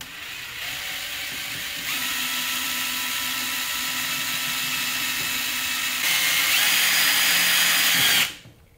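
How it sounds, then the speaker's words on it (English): A power drill whirs steadily as it bores a lube line port into a 4L80E transmission pump, holding a high, even whine that steps up in pitch partway through before cutting off at the end. "I'm going to drill this section of the pump, and that's for your line to lube drilling"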